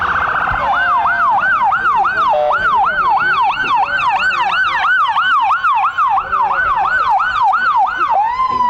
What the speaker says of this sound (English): And now I hear a siren.